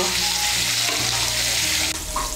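Pointed gourd (potol) fries in oil over medium heat with salt and turmeric, a loud, steady close-up sizzle with stirring rustles and a slight shift in tone near the end.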